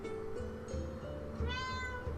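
Pet cat meowing close by, a couple of short tonal meows over a background of music and game sounds.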